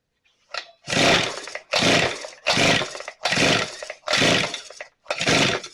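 A Shindaiwa T230X weed trimmer engine is pull-started six times in a row, each attempt a loud, rough half-second burst that dies away without catching and running.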